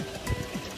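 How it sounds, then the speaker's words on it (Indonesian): Rain falling steadily outdoors, a soft continuous patter on surfaces, fairly faint and heard alone without talk. "Hujan."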